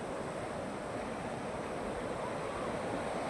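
Steady surf rolls onto the long, clean sand of Guhagar beach, a continuous broad wash of waves with no breaks, fairly soft and even throughout, with no voices.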